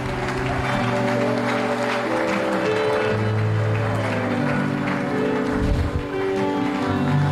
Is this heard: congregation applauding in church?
yes